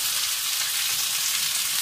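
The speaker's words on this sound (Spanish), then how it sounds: "Vamos, que hierva aquí un poquito y seguimos con esta receta." Sauce simmering in a pan while cooking turbot in meunière sauce, a steady close bubbling sizzle with dense crackle running evenly throughout, no voices.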